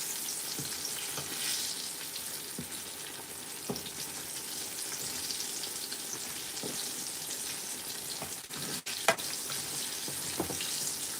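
Brinjal slices for begun bhaja fry in a pan with a steady, close sizzle throughout, broken by a few brief clatters of stirring near the end.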